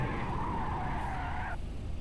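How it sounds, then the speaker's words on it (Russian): A Moskvich 412 engine drones hard in fourth gear in the City Car Driving game, a loud, steady strained tone that holds for about one and a half seconds and then drops away, leaving a broad low roar. "я сейчас еду на 4-й передаче, и машина уже гудит, разрывается"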